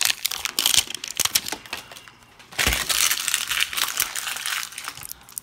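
Crinkly plastic wrap being torn by hand from a Mini Brands toy capsule ball up close, with sharp crackles and clicks coming in bursts, a short lull, then more rustling.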